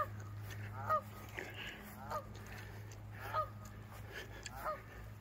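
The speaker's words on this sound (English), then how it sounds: "Got geese over there." Geese honk in a slow, irregular series, faint and distant over a steady low hum.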